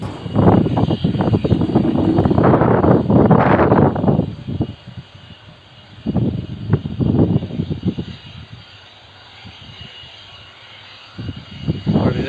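A loud jet roar from a military aircraft taking off fills the first few seconds, then drops away, leaving fainter rumbling bursts.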